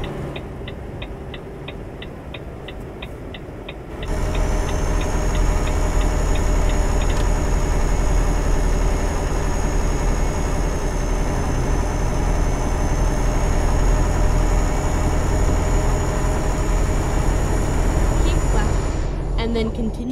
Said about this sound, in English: I might have to turn my bloody engine noise down a bit